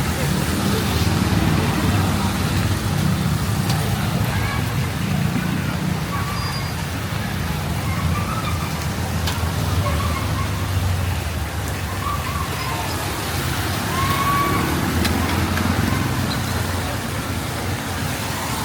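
Heavy, steady rain pours onto a street in Cambodia where street food is being sold, a dense unbroken hiss with traffic rumbling beneath, loud and continuous throughout.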